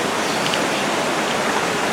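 The swollen Windmill River rushes under a bridge after a hurricane, a dense, steady, loud roar of flood water with no break and no voices.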